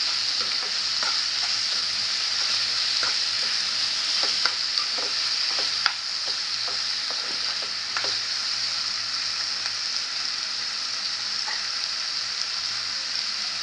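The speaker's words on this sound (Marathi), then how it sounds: "व्यवस्थित परतून घेऊया कांदा टॅमॅटोमध्ये" Onion and tomato sautéing in a pan for dhaba-style egg bhurji, a steady close sizzle with scattered spatula scrapes and taps throughout.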